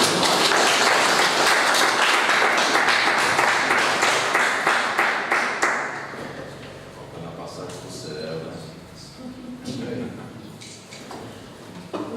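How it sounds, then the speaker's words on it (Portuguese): Hearty applause fills a municipal council chamber session honoring a local pastor, loud and continuous for several seconds before fading into voices talking in the room. "Salva de palmas"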